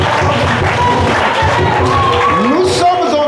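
Church congregation loudly acclaims the Lord, a dense wash of cheering voices and clapping filling the room, steady and close, with shouted vocal tones rising toward the end.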